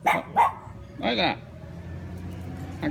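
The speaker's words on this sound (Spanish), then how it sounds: "¿a quién tú le ladras?" A dog barks close by, with three sharp barks in quick succession, a short pause, then a fainter fourth bark.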